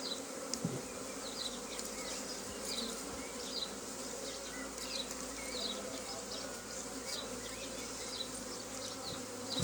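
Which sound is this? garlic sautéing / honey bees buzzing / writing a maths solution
honey bees buzzing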